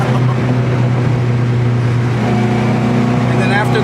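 A Honda Integra GS-R with all-wheel drive pulls hard, its engine roaring loud and close from inside the cabin, the tone climbing steadily as it accelerates, with a voice briefly audible near the end.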